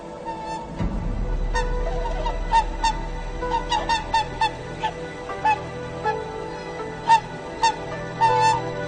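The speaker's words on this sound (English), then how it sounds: "Hooper swans, Hokkaido's majestic symbols of winter, are back." Whooper swans in a Hokkaido winter setting call in a flock, with repeated honking, trumpet-like notes rising over a steady background rumble of wind. The calls come in irregular clusters at mid-distance.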